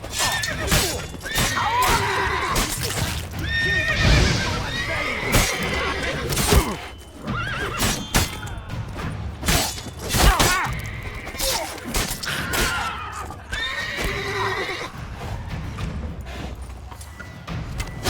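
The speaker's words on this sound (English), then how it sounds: "We grab Roderick's horses and we bolt" Horses neighing and whinnying in The Witcher 3: Wild Hunt, set among loud game combat sounds with crashes, hoof clatter and shouting voices, repeated bursts across a busy, dense mix.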